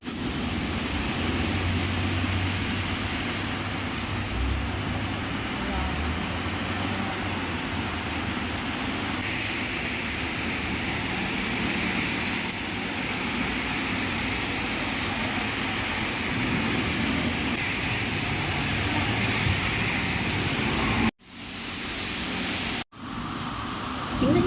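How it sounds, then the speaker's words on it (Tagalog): Heavy rain pours down in Taiwan as a steady, dense hiss with low rumbling traffic underneath, continuous and close, with brief dropouts near the end. "ang lakas ng ulan"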